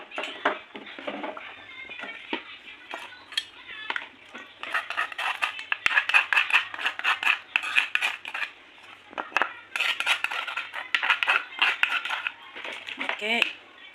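Tempeh batter ingredients stirred in plain water in a bowl, giving repeated scraping and clinking of a utensil against the bowl through most of the stretch, moderately loud and close.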